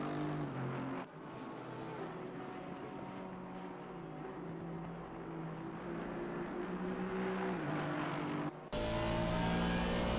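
Onboard with an Aston Martin race car during an FRS endurance qualifying run, the engine drones steadily at high revs with shifting pitch, close and continuous, briefly dropping out around gear changes.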